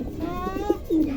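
Pigeons cooing close by, a few soft, low throaty coos in quick succession with one longer rolling coo at the end, clear against a quiet background.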